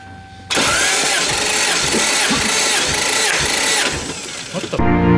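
A car engine on a Toyota Supra project car cranks hard and steadily for about four seconds during a hot compression test. The starter churns loud and close before the engine cuts off.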